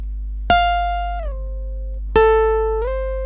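An electric guitar plucks two clean, ringing notes of a Thai solo, each sustaining and then sliding in pitch with a string bend, spaced well apart over a low steady hum.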